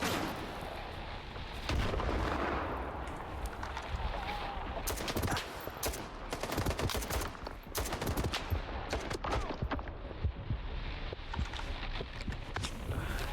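Fighting in the video game STALKER 2, with dense bursts of gunfire and sharp blasts that crackle steadily throughout, loud and busy, as a grenade is thrown.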